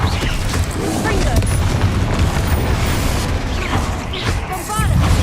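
Confringo fire spell explosions bursting in a Hogwarts Legacy troll fight, loud continuous booming rumble with crackling blasts, overlaid by game voices and effects.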